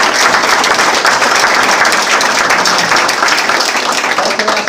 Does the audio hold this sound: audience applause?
yes